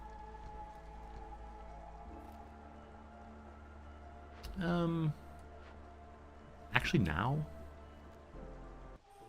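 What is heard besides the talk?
drizzle rain in video game Against the Storm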